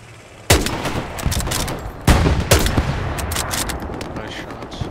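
Gunfire in the World War II shooter Hell Let Loose, two loud close rifle shots about a second and a half apart, each followed by echoing reports and scattered distant shots, with brief talk.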